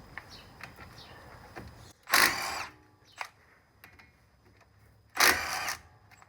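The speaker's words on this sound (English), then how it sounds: "I'm using an impact wrench for this." An impact wrench fires two short, sharp bursts a few seconds apart on the brake caliper bolts of a Honda Pilot, with faint clicks and handling noises between.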